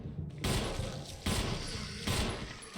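Gunfire in the video game Resident Evil HD Remaster: three loud, close shots roughly a second apart, each with a booming burst that slowly decays.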